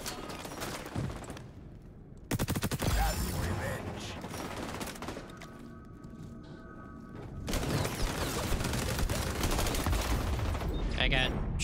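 Rapid bursts of AK rifle fire in the shooter game XDefiant, loud and close, broken by a short pause and mechanical clatter, under a player's talk.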